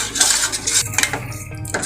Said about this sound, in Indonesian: Sekarang kita aduk.